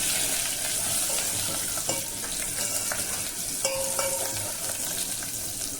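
Tempering for goat liver rasam frying in a pan, a loud, dense, continuous sizzle and crackle close up with occasional light pops, heard alone without voices.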